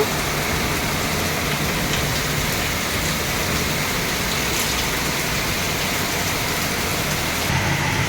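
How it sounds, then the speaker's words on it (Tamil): Heavy rain pours down steadily, a loud dense hiss of drops hitting surfaces throughout, with no voices. "செம்ம மழை பெய்யுது விட்டு விட்டு தான் பெஞ்சிட்ருக்கு"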